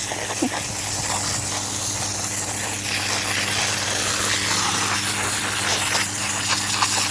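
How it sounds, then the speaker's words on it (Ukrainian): A generator runs outdoors in a garden, giving a steady broadband hiss and low droning hum that continues without a break from start to finish, fairly loud and close. "Ой, друзі, ой, там генератор."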